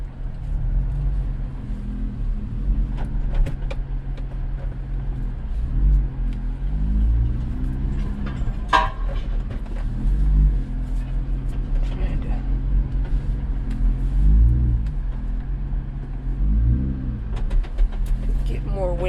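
Jeep engine idling in gear during a recovery of a large box truck, a steady low rumble throughout with faint voices in the background.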